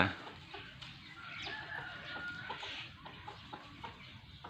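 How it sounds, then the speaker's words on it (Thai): Bantam hens and young chicks cluck softly in a quiet farmyard, with scattered chirps, short calls and a faint crow rising over low background noise. "นี่ครับก็มาอัปเดต ลูกไก่แล้วก็ไก่แจ้ของเรานะครับ"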